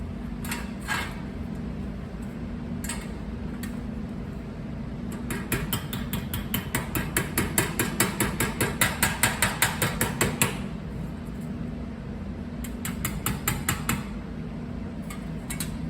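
Light, rapid hammer taps on an aluminum wing part during a Zenith CH 750 aircraft build, a steady metallic ticking in several runs of quick, even strikes with short pauses between, close and fairly faint.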